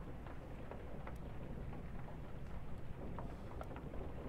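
Steady rain patters on the deck and hull of a ship in the video game Return of the Obra Dinn, a continuous soft wash of drops with a few faint brighter taps, alone with no voices.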